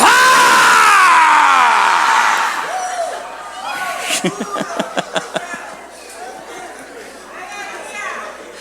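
A church congregation shouts together in a loud, sustained mass yell aimed at the devil, filling the first two seconds, then fading into scattered cries and sharp voiced bursts while the crowd keeps chattering.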